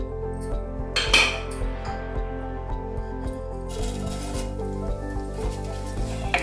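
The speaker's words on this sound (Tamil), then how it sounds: "இப்போ நம்ம அவுல கொஞ்சம் பருத்துக்கலாம்" Flattened rice (aval) frying in ghee for aval payasam: a steady sizzle fills the clip while a spoon clinks and scrapes against the pan now and then, close and even, with no talking.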